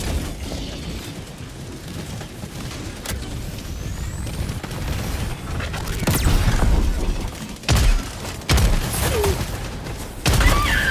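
A grenade blast in the video game Helldivers 2 booms amid ongoing combat rumble, with several heavy low thuds and crackling impacts spread across a noisy, continuous battlefield din.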